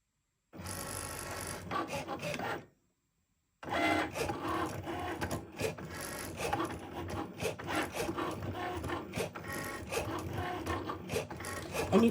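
A Cricut Maker cutting machine runs a cut with a steady, close mechanical whirr and quick shuffling, clicking motor movements, broken by one short silent pause and then continuing busily to the end.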